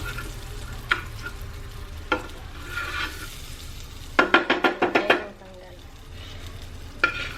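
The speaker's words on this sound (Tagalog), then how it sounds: "So, let's put the butter. Let's just sit it there and melt." Butter melts in a hot wok in a home kitchen, giving a soft, steady sizzle. Occasional scraping knocks cut through, and a quick burst of rhythmic tapping rises midway before the frying hiss settles again.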